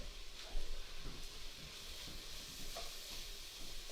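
Vegetables stir fry in a pan for a tomato soup, a soft continuous sizzle broken by scraping and stirring knocks, close and quiet, with no talk.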